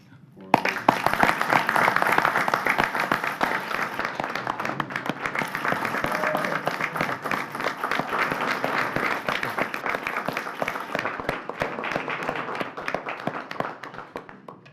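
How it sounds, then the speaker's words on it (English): Audience at a Pasco planning commission meeting applauding, a steady, moderately quiet patter of many hands clapping that runs for about fourteen seconds before stopping. "we're going to give you a round of applause and say thank you"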